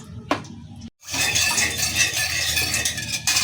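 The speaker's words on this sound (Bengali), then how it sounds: "লবণ দিয়ে বেশ কিছুক্ষণ নাড়াচাড়া করব" Salt stirred in a hot wok before adding rohu fish, opening with a sharp metallic clink, then a short silence followed by steady scraping and sizzling stirring, close up.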